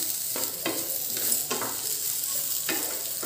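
Ivy gourd (kovakkai) sautés in a pan for Andhra-style chutney, a constant soft sizzle broken by several distinct scraping stirs at irregular intervals, close by and with no one talking.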